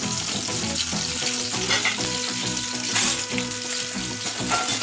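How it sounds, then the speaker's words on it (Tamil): Onion, garlic and tamarind fry in oil in a kadai, a steady close sizzle mixed with stirring and scraping throughout, with no talk. "இப்போ ஒரு கடாயில் ஆயில் விட்டு எண்ணெய் காஞ்சதும் வெங்காயம், பூண்டு, புளி போட்டு நல்லா வதக்குங்க."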